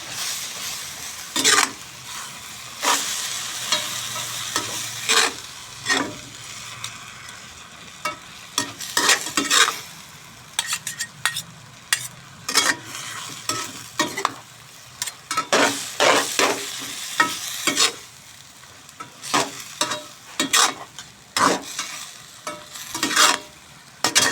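Morning glory stir-fried over high heat in a wok with a spoon of sugar, giving a steady sizzle broken by frequent sharp spatula scrapes and tosses, close and fairly loud, with no talking.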